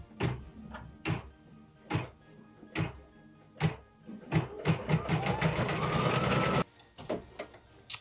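An embroidery machine stitches a tack-down line, with a run of sharp rhythmic thumps, then a steady dense whir of rapid stitching for a few seconds before the thumps resume, close and fairly quiet, with no talk.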